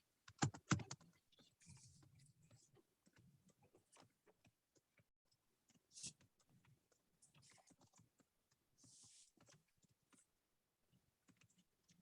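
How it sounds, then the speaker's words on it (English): Computer keyboard typing during a teaching session, heard as quiet, irregular clicks and short bursts of keystrokes with pauses between them, louder taps near the start and again midway. "The way I'm typing this out."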